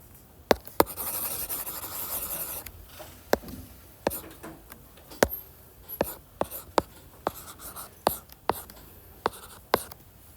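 A pen scratches out math notes on combining functions, with quick, irregular strokes and sharp ticks and taps throughout, close and fairly loud, with no clear talk.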